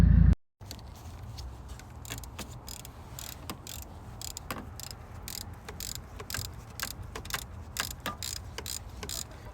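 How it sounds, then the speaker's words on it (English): Timing chain tensioner being fitted into a 2006 BMW 325i engine: a sharp sound at the very start, then a run of light metallic clicks and ratchet-like ticks at irregular intervals, close up and fairly quiet. "That's that tensioner going in"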